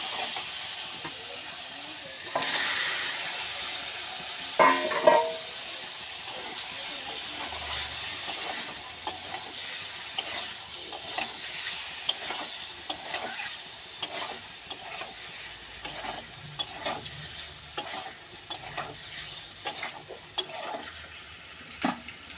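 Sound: spice paste being sautéed and stirred in a pan

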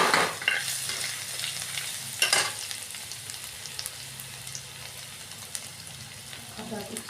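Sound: chopped garlic sizzling in hot oil

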